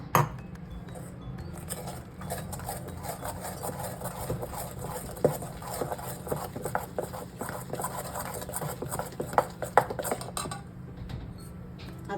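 A spoon stirs gram flour (besan) batter for vada pav in a bowl, making a soft continuous scraping and clinking with occasional sharper taps against the bowl.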